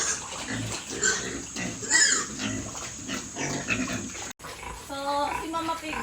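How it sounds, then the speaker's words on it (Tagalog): Pig grunting on a farm, a pregnant sow, with repeated close grunts and snorts running throughout, partly overlapping a person talking. "So, si Mama Pig guys, hindi ko siya pinapakain pagtanghali."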